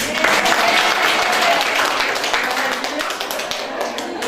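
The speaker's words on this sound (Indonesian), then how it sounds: "tepuk tangan buat beliau" Audience applause at a lecture, a full, steady wash of many hands clapping at once, loud and continuous before slowly thinning toward the end.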